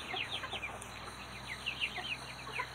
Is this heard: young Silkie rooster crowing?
yes